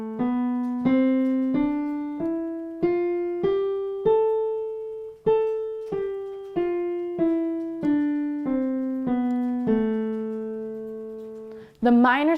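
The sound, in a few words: minor scale played on an instrument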